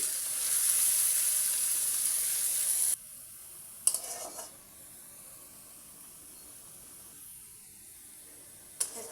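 Carrots drop into hot oil in a home kitchen, bursting into a loud, bright sizzle that cuts off abruptly after about three seconds, followed by faint hiss and a couple of brief clatters.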